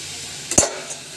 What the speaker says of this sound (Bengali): শাকটাতে একটু কড়ার মধ্যে শুকনো লঙ্কা, পেঁয়াজ দিয়ে আর নুন দিয়ে চাপা দিয়ে রেখে দিয়েছিলাম। এবার খুলে একটু নাড়াচাড়া করে দেবো।